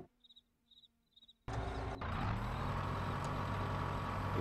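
Truck in the Farming Simulator 22 video game: a brief series of faint reversing beeps, then a loud, steady engine rumble and hiss that sets in abruptly and holds to the end.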